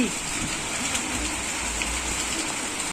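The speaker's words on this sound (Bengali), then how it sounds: "ভিজছে দেখো কত বৃষ্টি" Steady downpour of heavy rain, a constant rushing patter close by with a low rumble underneath, cutting off abruptly at the end.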